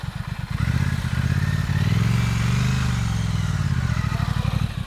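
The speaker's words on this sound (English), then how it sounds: "you have to lean this motorcycle" A motorcycle ridden slowly during a tight-turn practice session gives a steady, close engine chug with a slight rise and fall in pitch, loud and uninterrupted.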